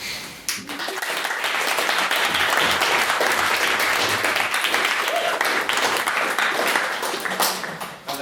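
A debate audience bursts into sustained, dense applause after a maiden speech on stopping funding for Mars exploration, holding steady and loud for several seconds before tapering off.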